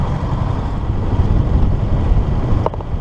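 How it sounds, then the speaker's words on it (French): A sailboat running under engine power down a canal: a low, steady motor drone mixed with wind buffeting and water rush, loud and continuous, with a short knock near the end. "on est au moteur, on descend le canal de 40"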